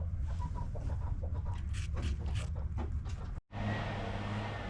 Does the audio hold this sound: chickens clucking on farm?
yes